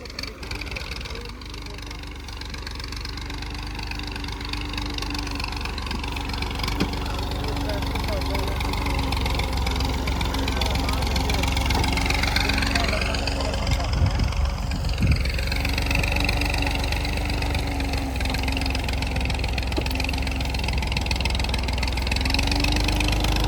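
A tractor engine idles steadily in a field while the tractor is stuck pulling loaded trolleys, a continuous low rumbling drone running the whole time and swelling slightly midway, with faint voices in the background.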